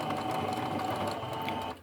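A domestic sewing machine set to ordinary straight stitches sews cotton fabric, a close, steady mechanical whir and rapid needle chatter running continuously before easing off at the very end, with no voices.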